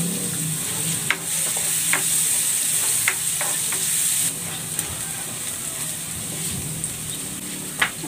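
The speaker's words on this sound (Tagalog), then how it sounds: "Igigisa ko na tong bawang." Garlic sautéing in hot cooking oil for a vegetable pinakbet, a steady close sizzle broken by a few sharp clicks and scrapes of stirring, with no talk over it.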